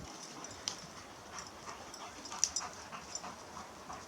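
A dog pants softly with a couple of thin, high whimpers in a forest over a quiet, hissy outdoor background.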